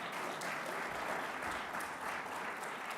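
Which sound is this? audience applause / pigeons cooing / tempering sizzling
audience applause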